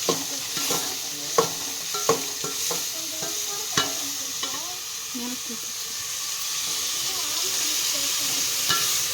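Onions with salt sauté in a pan for a chicken gravy, giving a steady close sizzle and hiss broken by repeated sharp scrapes and taps of a spoon stirring against the pan.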